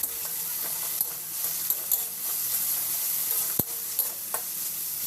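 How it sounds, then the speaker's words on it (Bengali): Spices being stirred with two teaspoons of sour yogurt in a frying pan for vegetable chira pulao, a steady sizzle and hiss broken by scraping stirs and one sharp clink of the utensil against the pan. "এবার এর মধ্যে আমি দিয়ে দিলাম 2 টিস্পুন টক দই, দিয়ে আবার একটুখানি নেড়ে নেব।"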